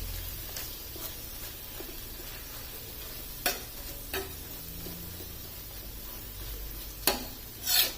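Mutton tawa boti cooking in a pan with tomatoes, a steady close sizzle and frying hiss running throughout, broken by a few sharp clicks of stirring utensils against the pan.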